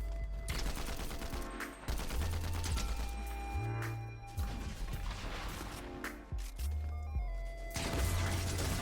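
In-game gunfire from Fortnite Reload crackles through in dense, repeated bursts of rapid shots mixed with heavy low thuds and impacts, loud and continuous throughout.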